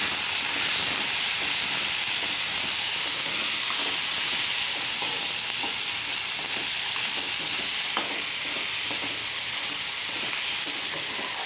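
Capsicum, peas and potato stirred with leftover chapati in a hot pan give a continuous loud sizzling hiss, with faint spatula scrapes now and then and no voices.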